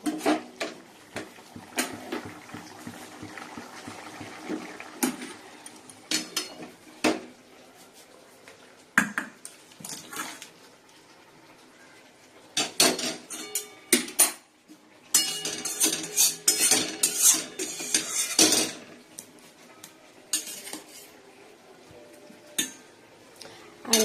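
A spoon scrapes and clinks against a metal pot while an egg curry is mixed in a home kitchen, with bursts of clattering and stirring scattered across the clip, near and moderately loud, without talk.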